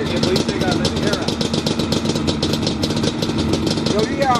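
A Honda S2000 widebody car engine idling close by, a steady, even rumble with a rapid pulsing beat, with people talking over it.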